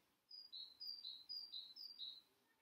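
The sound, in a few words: birds singing outside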